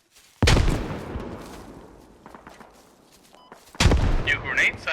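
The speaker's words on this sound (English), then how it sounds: "the first most noticeable one being the new grenade sound" Two loud, sharp grenade blasts from the Squad military shooter video game, the first bursting with a long rumbling decay, the second going off near the end, close and heavy, with no speech.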